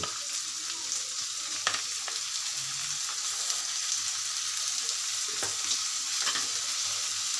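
Chopped onion frying with garlic and cumin paste in hot oil, a steady bright crackling sizzle with occasional spatula scrapes and taps against the pan, close and continuous, no voices.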